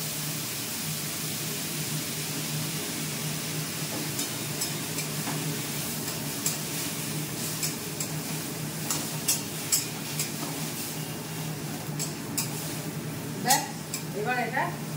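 Kashmiri chili, dried red chili and ground chili spices sauté in a pan, giving a steady sizzle with occasional scraping and stirring clinks near the end, with no voices.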